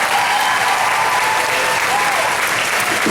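A studio audience breaks into loud, sustained applause for a panel, dense, continuous clapping filling the room from start to finish.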